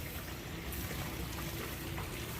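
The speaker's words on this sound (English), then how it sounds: "that waterfall is really nice with the vibes" Steady, close water noise from a backyard waterfall, a continuous even rush and trickle with no breaks and no voices.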